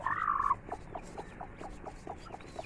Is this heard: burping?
no